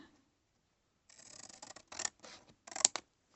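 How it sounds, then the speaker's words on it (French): Scissors snip through paper while a scrapbooking tag is cut, giving a few quick close-up bursts of crisp cutting and rustling after a second of near silence, with a sharp snip near the end. "On coupe."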